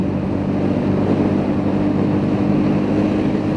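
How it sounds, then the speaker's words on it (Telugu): A steady, loud motorcycle engine drone with a low rumbling hum, continuous throughout without pauses, running at cruising speed on a dusty road in Ladakh. "సౌండ్ వినిపిస్తుంది మీకు బైక్ది"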